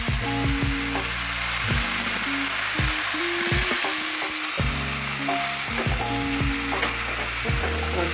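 Water spinach greens fry in oily spice paste in a pan for a vegetarian ghonto, a continuous loud sizzle overlaid with repeated clinks and scrapes of a spatula stirring against the pan.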